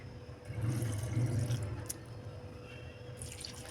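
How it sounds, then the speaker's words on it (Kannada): Water poured into a mixer jar while making panipuri, a short splashing pour near the mic followed by faint dripping and quiet room tone. "ನೋಡ್ರಿ ನೀರು ಹಾಕ್ಕೊಂಡೆ."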